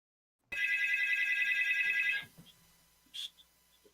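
A telephone rings during a live Christmas special broadcast, a rapid electronic trill lasting about two seconds before cutting off, followed by a few faint clicks and a brief soft noise in an otherwise quiet room.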